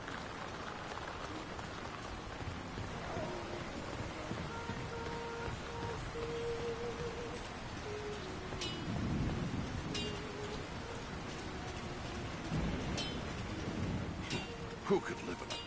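Rain falls steadily on a town in a Lord of the Rings video game, a continuous patter of drops with occasional low rumbles of thunder and faint tones beneath the downpour.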